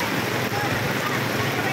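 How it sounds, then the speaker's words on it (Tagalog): Heavy rain pours down in a steady, dense roar at an outdoor arena in Candon City, a continuous broadband wash with no breaks. "Ang lakas ng ulan, guys."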